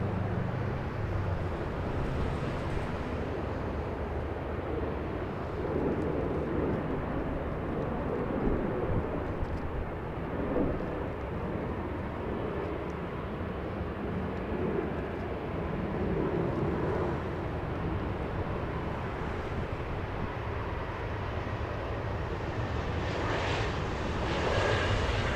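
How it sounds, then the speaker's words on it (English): Embraer E175 regional jet on the 24 right approach at LAX, a continuous broad engine roar and rushing air that holds steady throughout, heard from a distance with light wind noise. "A little Embraer E175 on the 24 right approach."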